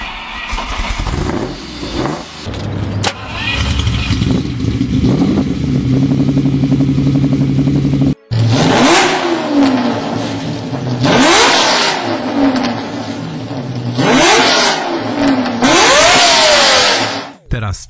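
Lamborghini engine cranks and starts, then revs hard in repeated rising bursts, loud and close, with a rough idle rumble between throttle blips.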